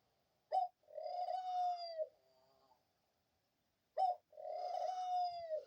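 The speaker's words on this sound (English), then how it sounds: "Why is he continuing to coo non-stop?" A dove coos close by in two separate calls, each opening with a short sharp note and followed by a long, steady, throaty coo, with a quiet pause between them.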